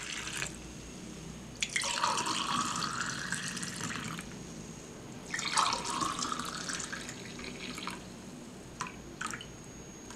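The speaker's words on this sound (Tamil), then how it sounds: "இப்போ ஒரு டம்ளரில் ஊற்றிக்கலாம்." Lemon juice blended with ginger, pepper and country sugar is poured into a tumbler in two quiet, close splashing pours separated by a short pause.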